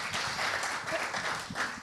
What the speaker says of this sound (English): Just a quick round of applause for our panelists.